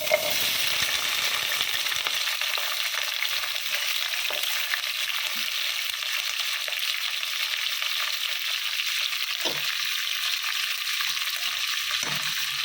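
Onion, chili and capsicum fry in a pan, a loud continuous close sizzle that runs throughout with a few scrapes of stirring and no voices.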